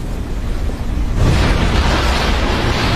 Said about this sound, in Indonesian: Kamui dikepung oleh para ninja dan dilempar petasan oleh Fudo